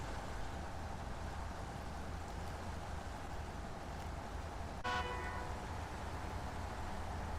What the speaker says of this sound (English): I honked the horn way too late there